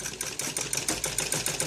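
A sewing machine stitches a sleeve onto a ladies' net cloth suit, running steadily and close with a rapid, even mechanical rhythm throughout.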